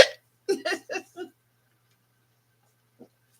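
Hiccups from a woman at home, a short burst of several sharp, quick hiccup sounds close to the microphone, then silence and one faint final hiccup.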